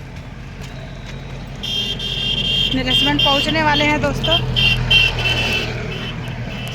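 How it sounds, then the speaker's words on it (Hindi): Fast vehicles rushing past on a road near a riverside stretch of rural India, a steady roar of traffic with horn-like tones, while someone talks in Hindi over it. "शी बाबा, कितना गाड़ी जा रहा है"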